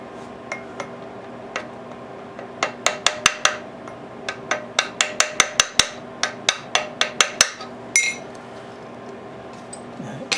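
A screwdriver pries and bends metal on a seized Briggs lever engine, producing a long run of sharp, bright metallic clinks and taps in fairly regular rhythm, close and clear over a quiet background.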